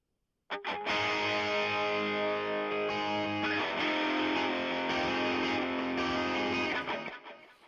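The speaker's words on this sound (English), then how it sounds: "we have our guitars, and these were recorded in a really dry room and through an amp" Two dry electric guitars, recorded through an amp in a dry room and panned left and right, ring out together in a thick chordal wash, strummed once and held, then changing chord midway before fading.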